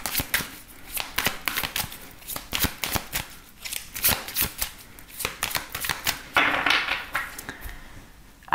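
Tarot cards are shuffled and drawn with rapid, close papery flicks and riffles in quick bursts throughout, with no voice over them.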